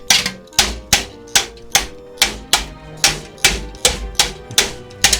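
Rivets being driven to fasten a cut panel back into a vehicle chassis, about a dozen sharp metallic bangs in steady rhythm, each ringing briefly, loud and close with no talk.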